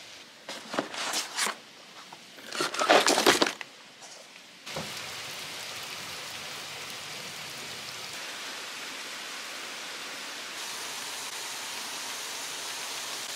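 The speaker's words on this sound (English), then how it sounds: "The sound of the rain falling is so relaxing." Autumn rain falls outside a small cabin in the Vermont woods. A few seconds of louder close handling noises give way to a soft, even hiss of rainfall that continues alone.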